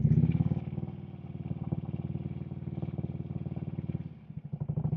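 Motorcycle engine chugging at low revs in a steady pulsing rhythm during a slow clutch-controlled U-turn, close and fairly loud, with a brief dip in power before it picks back up.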